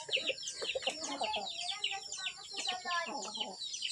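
Hybrid fighting chickens cluck and chirp busily close by in a dense, continuous chatter of overlapping calls, with no talk over them.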